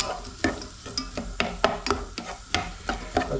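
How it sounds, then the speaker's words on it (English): Garlic and onions fry in a pan while being stirred, giving a steady sizzle with repeated scraping strokes roughly every half second, close and fairly loud, with no talking. "So first of all, we need to just fry off our garlic and our onions in there."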